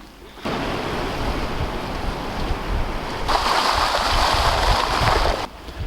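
Big spring-tide waves surging around Mont Saint-Michel, a loud continuous roar of surf and wind that swells into a brighter, hissing crash partway through, with no voices.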